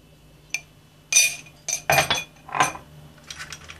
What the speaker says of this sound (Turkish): Bu malzemelerimi tekrar bir çırpıyorum.